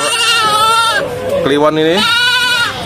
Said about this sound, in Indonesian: Ini ada kambing kacang teman-teman.